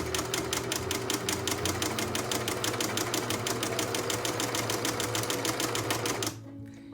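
Home sewing machine winding thread onto a bobbin, a steady, fast, even mechanical whir with a regular rapid ticking that runs for about six seconds, then stops, leaving a faint hum.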